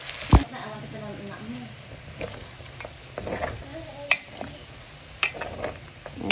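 Close, steady stirring and sizzling as seasoning with crushed pepper and bouillon powder is mixed into pork leg for puchero, a continuous frying hiss broken by a few sharp utensil knocks.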